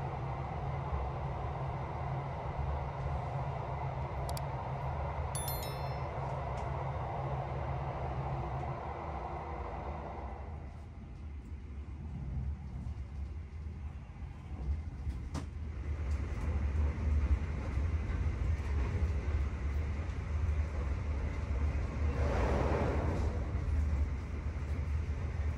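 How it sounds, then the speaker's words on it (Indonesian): Inside the cabin of the running Argo Lawu Luxury train, a steady low rumble and hiss of the moving carriage continues throughout, swelling somewhat louder in the second half, with no talking. "Dan seperti inilah suasana di dalam kabin kereta Luxury."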